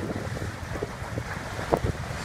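A sailboat sails almost on a beam reach in 15 to 20 knot wind over roughly three-foot waves, heard as steady wind rush across the microphone with low water wash and a few soft knocks, no voices.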